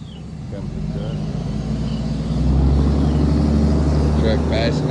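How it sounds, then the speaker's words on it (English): A truck passes along a road near a horse, its engine rumble swelling to a steady, fairly loud drone midway through, with faint background noise. "Truck passing, that didn't bother a bit."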